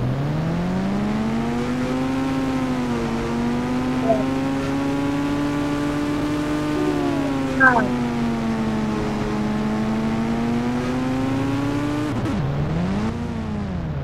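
Car engine revving hard in a steady, sustained drone with slowly rising and falling pitch, loud and close, ending in a sharp drop and swell near the end; a voice briefly speaks.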